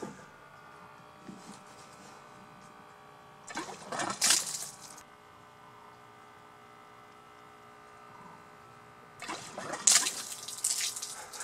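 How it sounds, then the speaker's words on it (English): A low-power airlift geyser pump shoots water in two separate gushing spurts about six seconds apart, each rushing and splashing briefly over a quiet background hum. "That's a lot of water."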